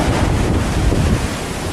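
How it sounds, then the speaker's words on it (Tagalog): Heavy, roaring ocean waves crash close by, with constant wind buffeting the microphone. "Grabe, ang lalaki pa rin ang alon dito."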